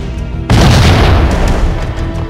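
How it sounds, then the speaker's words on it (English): A grenade goes off in the Max Payne video game, a single loud booming blast that hits suddenly and then rumbles and crackles on, heavy and sustained, through the rest of the moment. "I guess I just gotta resort to just throwing a grenade over there."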